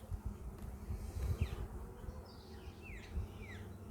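Steady buzzing of many honey bees close by at a beehive during honey harvesting, a low droning hum with a few faint bird chirps in the background.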